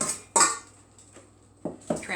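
Fish au gratin being moved into a pot, a few sharp clinks and scrapes of cookware and utensils with quiet gaps between them.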